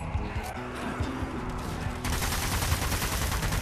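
Assault rifle fire in the zombie shooter Zombie Army 4, a dense run of rapid shots that grows louder and harsher partway through and keeps a steady rattling rhythm with no talk.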